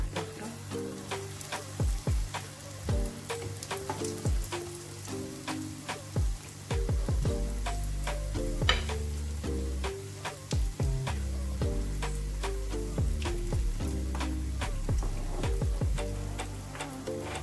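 Moroccan sfenj donut dough fries in oil in a pan, giving a soft continuous sizzle broken by frequent sharp pops and ticks, with a few louder clinks, heard close and alone.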